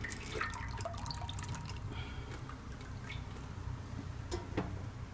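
Wort drips from a wort chiller as it is lifted out of the pot during home brewing, making faint, scattered drips and light splashes over a low steady background.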